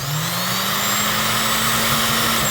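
Sewing machine stitching a seam around bonnet fabric, a continuous close whirring motor hum with a slight rising pitch, steady and uninterrupted.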